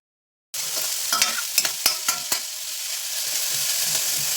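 Chopped vegetables and tomato sautéing in a hot pan for macaroni masala. A sudden steady sizzle starts after a moment of silence, with several sharp utensil knocks and scraping stirs early on before the frying settles into an even hiss.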